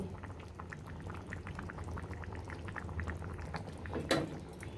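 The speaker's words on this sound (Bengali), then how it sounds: "এখন এক থেকে তিন মিনিটের মতো আমরা মাছগুলো ভালোভাবে সিদ্ধ করে নিব" Hilsa fish simmers in a thin Bengali ridge gourd curry, with a soft, steady bubbling and gentle popping throughout and a brief louder splash near the end.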